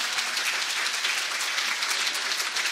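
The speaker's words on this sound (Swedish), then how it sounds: "En applåd till er." Audience at the 2014 Partillerock band competition final applauds the bands, a steady, dense wash of clapping from a crowd filling the whole stretch with even loudness and no talk over it.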